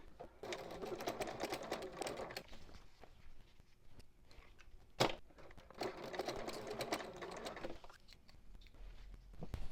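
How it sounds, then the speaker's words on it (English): Home sewing machine stitching a 3/8 inch seam on a small Mini Swell bag with boxed bottom, running in two long steady bursts with a brief pause and a sharp click between them. "I'm going to be stitching along at a 3/8 inch seam allowance."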